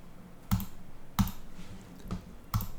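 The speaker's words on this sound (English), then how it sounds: "We're going to type in here full name." Computer keyboard typing heard as four separate, sharp keystroke clicks spaced unevenly, close and clear over a quiet background.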